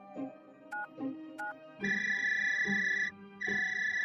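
Two short electronic telephone beeps sound close, then a longer steady tone pulses twice, like a handset line signal trying to connect, quiet and with no voices.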